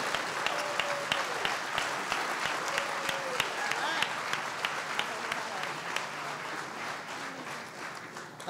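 A gala audience at an anniversary celebration claps steadily for several seconds, dense sustained applause from a large room, with a few sharp nearby claps and a voice faintly audible beneath.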